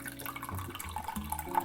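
Warm water pouring into a small ceramic teapot, a short close gurgling trickle with faint splashing that lasts under two seconds.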